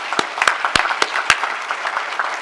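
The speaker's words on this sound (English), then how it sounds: "we should give all of them a round of applause." Round of applause from a conference audience for board members at an educational forum, brisk steady clapping with several sharp nearby claps standing out, no voices over it.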